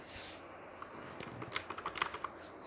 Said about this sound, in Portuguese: eu sempre quis um teclado mecânico